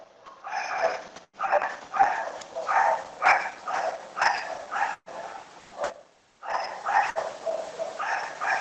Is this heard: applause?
no